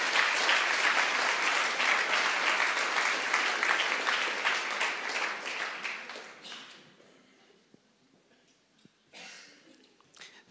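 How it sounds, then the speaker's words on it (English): A church congregation applauds during a Palm Sunday evening service, a dense steady round of clapping for about six seconds that thins out and fades, followed by a quiet room with a few scattered claps and small noises. "Let's give Rob a little round of applause."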